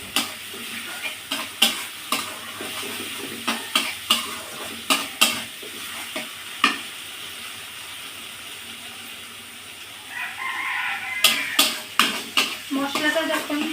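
Spices and salt fry in oil in a pan while a utensil stirs them briskly, sending out a quick, irregular run of sharp scraping knocks over a low sizzle that swells louder toward the end.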